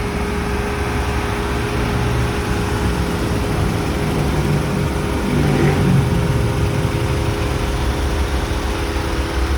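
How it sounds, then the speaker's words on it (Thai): A Mercedes W123 engine runs steadily after repair work, a loud continuous drone with a slight swell in revs around the middle, no talking over it. "เราก็มาเทสอีกรอบนะครับ หลังจาก ที่เราซ่อม ปรับปรุงเครื่องยนต์ขึ้นไปแล้วนะครับ"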